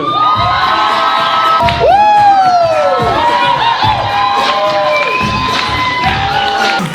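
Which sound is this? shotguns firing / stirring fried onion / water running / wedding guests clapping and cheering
wedding guests clapping and cheering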